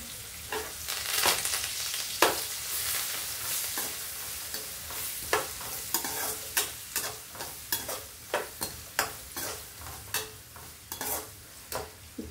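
Onion pieces, green chilli, curry leaves and coriander fry in hot oil for a vangaya-mango curry, a steady sizzle broken by a regular series of sharp scraping stirs that grow more rhythmic toward the end, with no talk.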